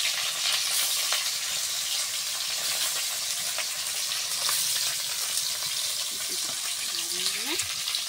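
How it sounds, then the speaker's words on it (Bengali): Fish fries in a pan during home cooking, with a dense, constant hiss and crackle of oil throughout and a brief faint voice near the end. "এই যে এখন মাছ দিলাম, মাছটা ভালো করে ভেজে নামিয়ে"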